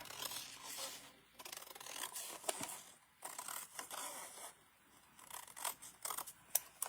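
Scissors snip through a card mat for an arrow fold card, several close, crisp cuts in bursts separated by brief pauses.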